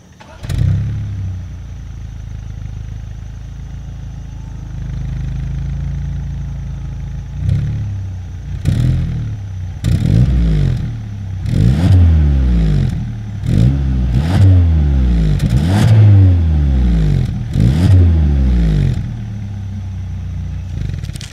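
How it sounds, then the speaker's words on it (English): A 2022 Hyundai Sonata N Line with dual exhaust idles at first, then revs repeatedly in sharp, loud bursts that rise and fall in quick succession, recorded close to the exhaust. "As always, here is that exhaust clip."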